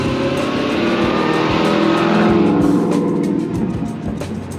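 A group of Corvettes rolling out of a parked corral, a loud continuous blend of V8 engines rumbling and revving nearby, swelling in the middle and easing off, with faint clicks and knocks over it.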